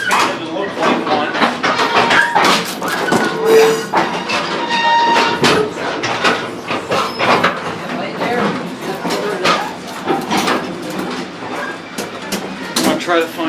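A heritage passenger car on the Lebanon, Mason and Monroe Railroad rolls along, painted in Milwaukee Road style. There is a rhythmic clatter of wheels and couplers with metallic clicks and rattles, close and fairly loud, and a voice talks intermittently over it.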